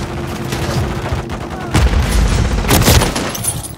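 Gunfire from Call of Duty Modern Warfare 3 multiplayer, a rapid burst of loud close shots with sharp cracks and thudding booms, steady rattle throughout.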